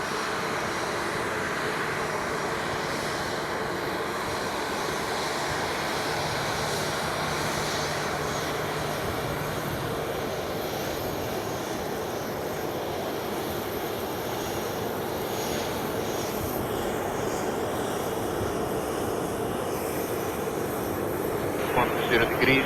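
An airliner landing at Queen Beatrix International Airport, a broad steady engine roar that holds loud throughout from close range, with speech faintly mixed in.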